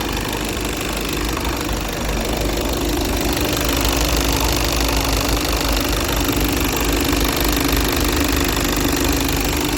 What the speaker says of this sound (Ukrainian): Вагончик завівся на холодно добре.